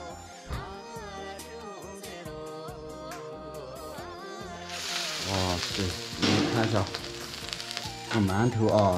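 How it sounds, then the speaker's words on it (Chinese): Buns stuck to the side of a hot wok to steam set off a sudden loud hissing sizzle partway through, following music, continuing close and steady. "现在舅妈就把这个馒头给它放进锅里面蒸起来了，就贴在这个锅边"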